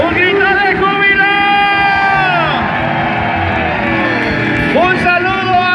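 A crowd at a Pentecost service in Anaheim raises loud, sustained shouts and whoops of joy, with wavering voices layered densely over one another throughout.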